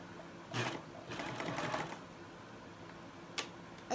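Serger stitching a quilt block in short bursts, a brief run near the start and a longer whirring pass in the middle, then quiet with a single small click near the end; close and fairly faint.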